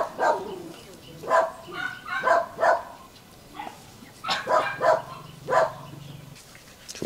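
Bac Ha bobtail dogs bark in repeated sharp bursts, several barks spaced through the stretch, fairly close, with a low hum in the background partway through.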